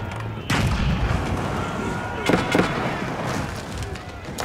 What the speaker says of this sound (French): Et les canons, ça fait des dégâts de zone.